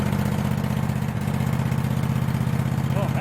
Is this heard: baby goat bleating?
no